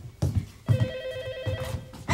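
A telephone rings indoors in a Korean drama scene, a repeating electronic ringtone sounding in short bursts with brief low thumps between them.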